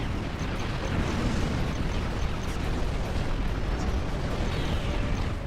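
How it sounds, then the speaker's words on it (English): A transformer exploding in Star Trek Online space combat: a dense, continuous roar of blasts and rumbling detonations, loud and steady throughout with no voices. "Once the transformer is destroyed,"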